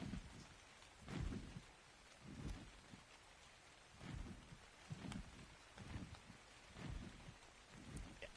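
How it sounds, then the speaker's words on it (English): Steady rain in the video game Ark patters throughout, with soft low rumbles swelling and fading every second or so, like distant thunder under the downpour. "Just let me know that it's raining by the sound."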